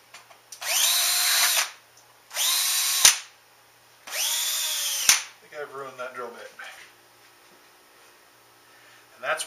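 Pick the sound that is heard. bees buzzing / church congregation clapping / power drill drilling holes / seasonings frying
power drill drilling holes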